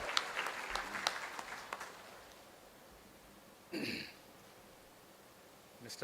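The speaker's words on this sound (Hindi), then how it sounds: "श्री संजीव मेनन, एक बार जोरदार तालियों के साथ सब इनका सर का स्वागत करते हैं." An audience at a meeting in Delhi gives a speaker a welcoming round of applause, a soft, distant clatter of clapping that tapers off after a couple of seconds into near silence and a brief rustle.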